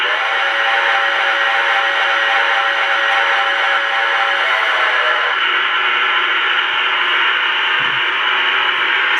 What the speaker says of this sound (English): There's the whistle too he has.